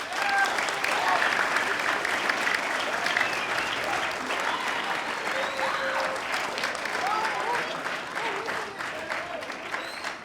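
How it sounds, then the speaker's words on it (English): An audience at a student performance applauds with a dense, sustained wash of many hands clapping, staying loud throughout and easing slightly toward the end. "So please give them all a round of applause."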